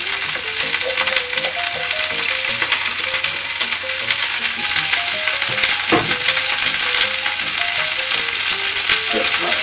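Napa cabbage and green onion fry together in a pan, a loud, continuous sizzle with scraping stir noises and a sharp clack partway through, with no talking.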